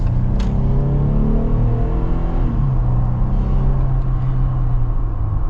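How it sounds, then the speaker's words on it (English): A Jeep Wrangler Xtreme Recon on bigger tires accelerates hard, its engine note climbing steadily through the gears in a loud, continuous rumble heard from inside the cabin, with a shift partway through. "Let's finally get our acceleration here with the Xtreme Recon"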